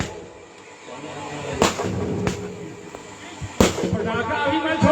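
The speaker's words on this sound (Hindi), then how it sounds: "जो भी पटाखा छोड़ रहे हैं कृपया अभी बंद कर दें।" Firecrackers go off during a devotional gathering, a few sharp separate bangs landing a second or two apart over a murmuring crowd and a speaking voice.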